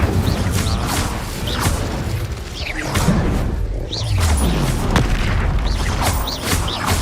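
Spells cast in the video game Hogwarts Legacy: a dense run of booming blasts and whooshing swishes, loud and close, with crashes and thuds piling on one another.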